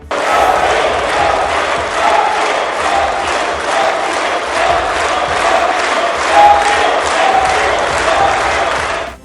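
A large crowd in the new Indian Parliament chants slogans in unison, loud and rhythmic, with repeated shouted phrases rising and falling over about nine seconds.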